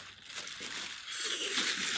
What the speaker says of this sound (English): We've got another plastic bag.